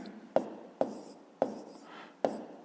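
A pen writes on paper during a fifth-grade maths exercise, five sharp taps marking short strokes at a steady rhythm, each followed by soft scratching, close and quiet.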